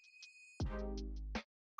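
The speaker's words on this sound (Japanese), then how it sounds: "それから1週間ほどして友人の拓也から1本の電話が入る" A phone rings for an incoming call from a friend, giving a few quick high electronic ring pulses, then a louder, longer buzzing tone that cuts off abruptly.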